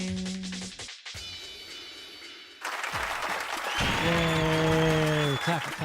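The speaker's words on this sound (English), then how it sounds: "Clap, clap, clap, clap." Applause in the video game Fate/Extra CCC swells into a steady wash of clapping after a short gap, layered under game music and a bright, chattering character voice.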